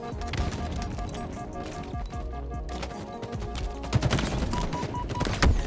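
Rapid gunfire crackles in a Halo Infinite multiplayer match, dense bursts of shots and impacts mixed with game music and effects, sustained throughout with heavier hits near the end.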